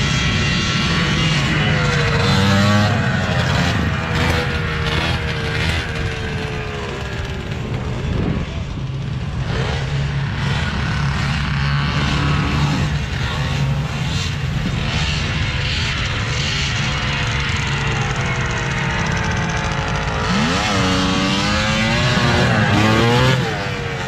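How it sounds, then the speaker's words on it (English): An old racing snowmobile with a three-cylinder engine drones loudly and continuously, its buzzing note wavering as the throttle shifts and rising in revs near the end, with no voices. "So just a cool old race sled. It's got a triple in it. It sounded cool."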